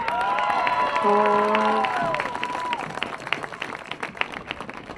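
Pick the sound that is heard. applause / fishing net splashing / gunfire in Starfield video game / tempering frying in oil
applause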